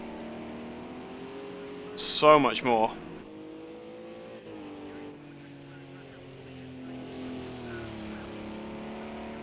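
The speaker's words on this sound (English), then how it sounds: "This is going to amplify the sound of these monstrous GT3 cars" GT3 race cars lap the bowl-shaped Texas Motor Speedway road course in Project CARS 2, with a loud engine blare and quick rev burst early on, then a steadier droning engine note underneath a commentator talking throughout.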